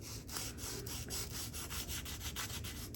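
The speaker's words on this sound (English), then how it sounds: "I'm just going to lightly scrub this main area to try to just break the surface" A 1970 Ford F250 west coast truck mirror being lightly hand-sanded with 320 grit sandpaper, a close, continuous scratchy rubbing in quick back-and-forth strokes with a steady rhythm.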